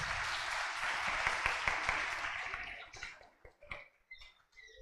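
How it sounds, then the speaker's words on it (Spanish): Church congregation clapping loudly in unison as a dense burst of applause that fades out over a few seconds, leaving scattered claps and faint voices. "Fuertes palmas, queridos hermanos."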